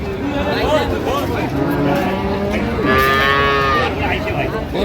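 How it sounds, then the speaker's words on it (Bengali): Sahiwal cattle at a livestock market in Dinajpur give a loud, drawn-out moo, with further lowing over a steady din of crowd chatter and nearby voices. "শাহিওয়াল গরু, গরুর মান আছে।"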